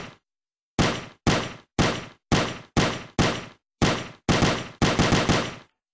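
Gunfire in a first-person shooter built in the Blender Game Engine: about eleven sharp, loud shots, each with a short decaying tail, in an irregular rhythm with brief gaps and a quick cluster near the end, with no talking.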